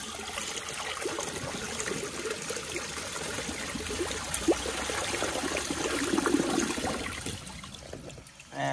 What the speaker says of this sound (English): I might actually flush it on this little water, see how it does on this